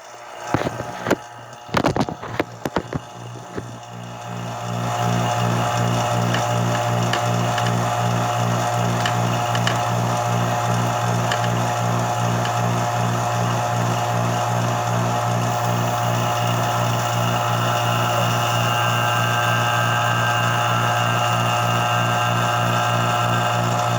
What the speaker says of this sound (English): I'm gonna get the vacuum on.